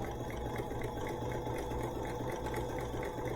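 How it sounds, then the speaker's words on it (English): A BERNINA sewing machine runs a long stitch at a 6mm stitch length, giving a steady, close motor whir with a fast even needle rhythm throughout. "One second, let me sew this one."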